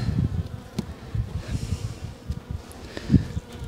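Low, steady insect buzzing from a mass of honey bees, hovering and fluctuating in loudness, close by with brief louder swells, while being fed bakers fondant.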